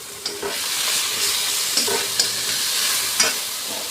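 Ground spices with cumin, salt and a splash of water fry in a pan for a Bengali fish curry, giving a steady, close sizzle broken by several sharp spatula scrapes and taps.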